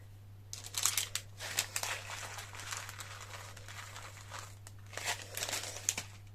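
A paper wrapper around small American candies is crinkled and peeled open close up, in repeated bursts of rustling separated by short pauses, with no talking.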